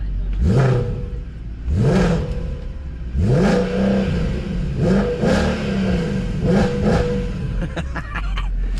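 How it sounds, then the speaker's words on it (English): A Mercedes W204 C63 AMG with modified setup fires up and revs repeatedly, a loud nearby engine rising and falling in about eight distinct throttle blips with a steady idle rumble between them. "So let's start her up."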